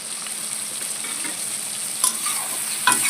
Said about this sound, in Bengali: এভাবে নেড়ে নেড়ে টমেটোটা ভাজা ভাজা হয়ে আসতে থাকে